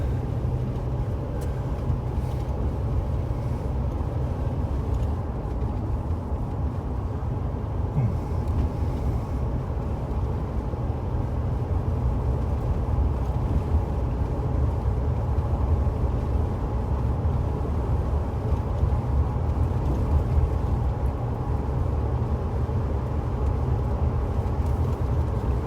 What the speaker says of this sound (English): I'll drive down here a ways.